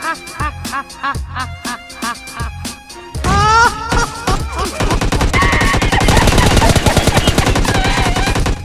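Gunfire in the PUBG Lite video game: loud rapid bursts of repeated shots, first spaced clusters then a dense sustained volley, with little talk.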